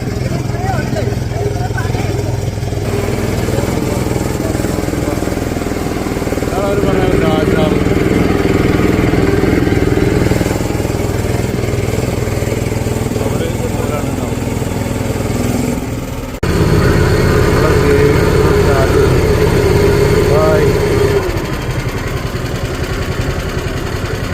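The engine of a longtail boat at a Thai floating market idles and runs loud and close, holding a steady chugging drone. Voices talk beneath it, and the engine sound cuts out briefly partway through.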